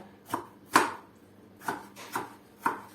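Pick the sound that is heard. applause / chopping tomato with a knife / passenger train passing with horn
chopping tomato with a knife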